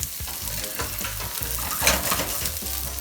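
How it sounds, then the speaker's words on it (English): Onions frying in hot olive oil in a pan, a steady close sizzle with soft stirring scrapes and faint pan clatter throughout, no voices. "about 2 tablespoons of olive oil in a pan. That was already heating. And then to that, just add our onions"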